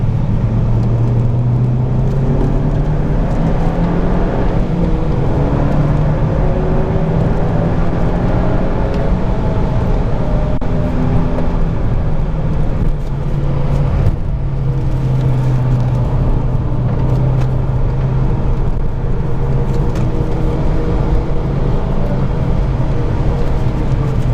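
Cars lap a track at the GTI International 2018 event, with a loud, steady engine and road drone whose pitch rises and falls continuously throughout.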